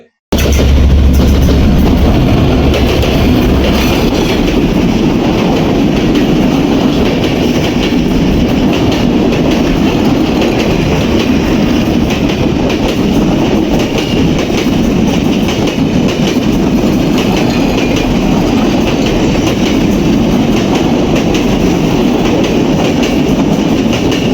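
A mail train thunders past loudly and continuously at Uthali railway station in Chuadanga, Bangladesh, its wheels rumbling and rattling for the whole stretch without letting up.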